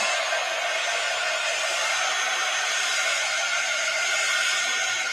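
A handheld hair dryer blows a steady, even whir for several seconds while a handmade papercraft card dries, continuous and close with no talking.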